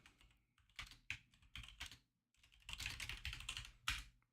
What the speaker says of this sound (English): I'm going to be typing.